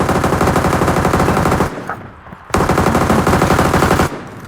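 Rapid automatic gunfire from a battle royale video game fires in two long, loud, sustained bursts separated by a short pause.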